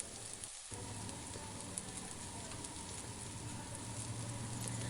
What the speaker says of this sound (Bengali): শিমগুলো দিয়ে আরও কিছুক্ষণ ভেজে নেব